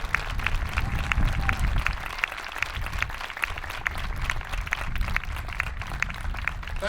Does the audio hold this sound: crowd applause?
yes